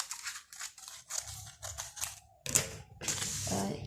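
Scissors snip through fabric along a sleeve pattern line, a run of crisp close cuts in uneven bursts with short pauses between them.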